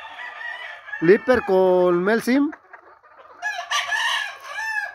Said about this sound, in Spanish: Ahí está este gallo macho